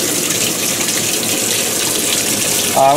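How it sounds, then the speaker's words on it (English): Water gushes steadily from a tap into a machine as it fills, a loud close continuous rush with no voices. "We're just going to fill the machine and let it drain out just to do it."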